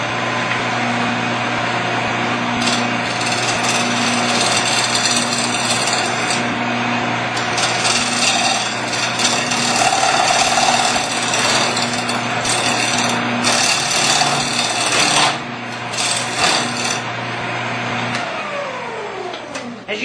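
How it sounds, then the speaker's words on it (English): A round nose scraper cuts a wooden bowl spinning on a Shopsmith lathe, giving a steady close rasping scrape over the constant hum of the machine, with the scraping swelling in bursts. "As you can see, a nice sharp scraping tool like this is going to throw some nice wood curls."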